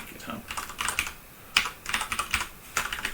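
Typing on a computer keyboard nearby, clusters of quick clicking keystrokes broken by short pauses, with no one speaking.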